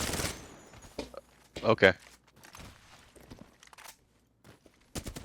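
Gunfire in Apex Legends comes in a few sharp bursts, with a loud cluster near the middle and a final shot at the end, separated by quieter game noise, and a person speaks briefly.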